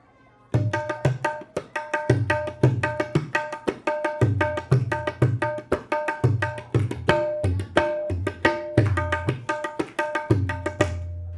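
Tabla played in a Mumbai street music rhythm: crisp ringing strokes over deep bass thumps in a steady, driving repeating cycle, close and loud, with no talk over it.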